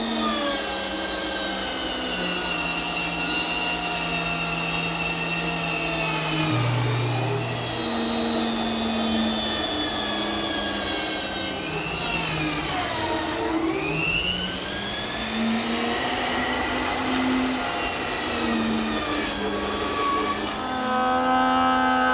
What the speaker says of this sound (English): What I've just done is made a few passes through the joiner to get one face of the blank flat.